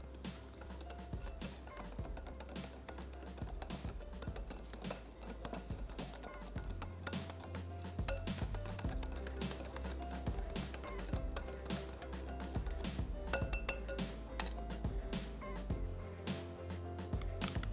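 Cream being mixed into an egg mixture in a bowl, steady rapid clinking and tapping of a utensil against the bowl, close and continuous for the whole stretch with no talk.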